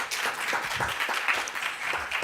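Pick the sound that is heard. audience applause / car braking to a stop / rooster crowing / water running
audience applause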